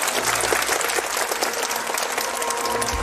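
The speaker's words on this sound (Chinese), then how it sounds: "我们再次掌声响起" Audience applause fills a Peking opera concert hall, a dense, steady clapping from a large crowd that holds at full strength for the whole stretch without pause.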